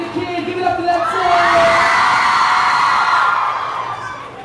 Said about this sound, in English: so please give a round of applause for them.